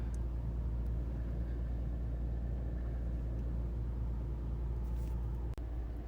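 A Lexus IS 250 2.5 SE sedan's engine idles with a steady, low, even rumble that continues throughout, broken only by one faint tick near the end.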